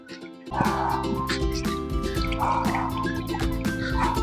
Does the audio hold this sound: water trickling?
yes